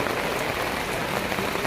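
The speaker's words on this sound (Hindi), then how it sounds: "बारिश बहुत तेज़ हो गई है" Heavy rain pours steadily on a mountain trail during the Shrikhand Mahadev yatra trek, a dense, unbroken hiss of drops close by with no voices.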